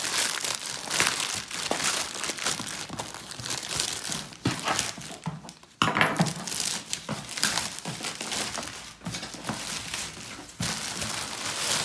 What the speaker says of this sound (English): tear away all the plastic